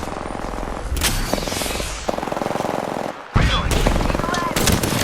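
Automatic weapon fire in the Apex Legends battle royale game, sustained rapid bursts of loud close gunshots with a brief pause, then more firing, under short clipped voice callouts.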